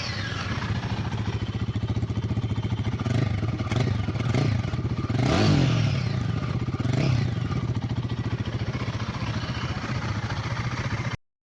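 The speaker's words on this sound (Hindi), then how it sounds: "सो मैं आपको फायरिंग सुनाता हूँ।" A 2024 Royal Enfield Guerrilla 450 motorcycle engine idles steadily close by with a few throttle blips that swell and fade, ending abruptly.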